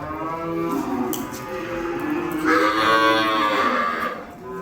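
Bulls at a Vaniyambadi cattle market bellow and moo in long, drawn-out calls, loud and close, with a stronger, higher moo rising in the second half and no talk over it.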